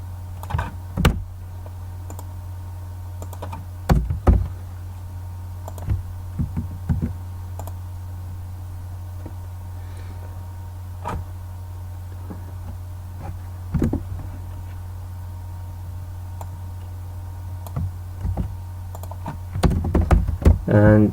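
Computer keyboard keystrokes as Arduino code for an LCD display is typed, coming in short irregular bursts of clicks over a steady low electrical hum, with a denser flurry of typing at the end.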